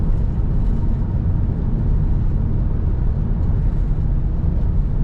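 Steady low cabin drone inside a 2004 Ford Thunderbird Roadster on the move, a smooth, even road rumble with little wind noise and no voices.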